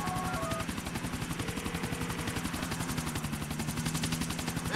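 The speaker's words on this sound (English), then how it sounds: "Take the chopper to the helipad." Helicopter flying in Grand Theft Auto, a steady fast rotor chop thudding throughout at close range, with a droning engine tone underneath and some faint game sounds layered over it.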